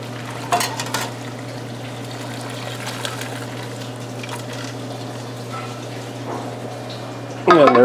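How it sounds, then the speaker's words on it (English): Lobster bisque poured from a pan through a strainer, a steady low trickle and drizzle of liquid running on throughout, with a brief clatter near the start and a louder splash and rattle at the very end. "we'll go ahead and pick up the pan and strain it"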